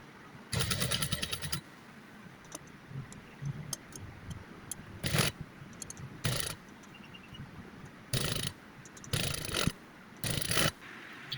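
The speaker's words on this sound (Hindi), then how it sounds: "अब सेंटर में सिलाई करेंगे।" Sewing machine stitching through fabric ruffles along the center, running in short whirring bursts with pauses in between, close and moderately loud in a quiet room.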